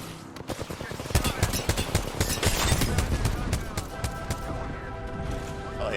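An airstrike bombardment rains down in the video game Apex Legends, with dense rapid bursts of explosive impacts and gunfire-like cracks that swell and roll on for several seconds before thinning out.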